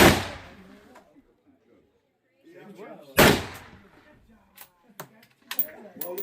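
Two sharp, loud hunting rifle shots crack at an outdoor youth shooting range, the first at the start and the second about three seconds later, with people talking between them and clicks and knocks afterward.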